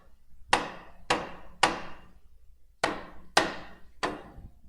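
A hammer strikes a drive shaft to knock the U-joint out of its bolt caps, six sharp metallic blows with short ringing tails, near and clear, in two groups of three with a brief pause between them.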